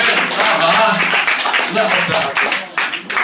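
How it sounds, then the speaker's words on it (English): An audience at a stand-up comedy show in Prague bursts into applause, a dense burst of clapping mixed with laughter and cheering voices that starts strong and tapers off toward the end. "would get a round of applause"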